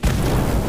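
Incendio fire spell in Harry Potter Magic Awakened: one short, loud whooshing blast with a deep booming body that sustains briefly.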